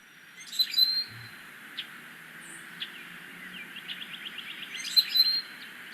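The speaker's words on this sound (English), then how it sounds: "So I'll play the Rusty Blackbird song for you." A Rusty Blackbird sings on its own: jumbled, gurgling high chirps and short squeaky notes, with a creaky, rising hinge-like note near the end, clear and fairly close over a quiet background.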